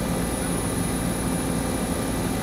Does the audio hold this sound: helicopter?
yes